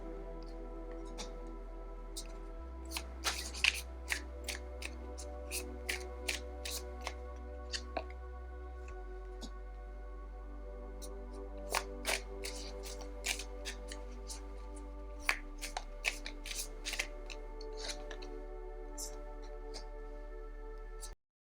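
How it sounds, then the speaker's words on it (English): Tarot cards from a Weaver Tarot deck being shuffled by hand, a quiet run of scattered crisp clicks and soft snaps in irregular bursts, close up against a near-silent background. "I'm going to shuffle them and see what comes through for you today"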